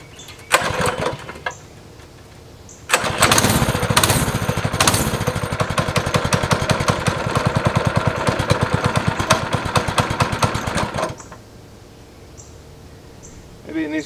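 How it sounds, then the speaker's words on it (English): A go-kart engine with no brakes, roll cage or seat belts fires up on a pull, sputters briefly, then catches and runs in a loud, steady, rapid buzzing putter for about eight seconds before cutting back to a low idle. "I guess we turn the fuel on, turn the ignition on, give it some choke, maybe a little throttle."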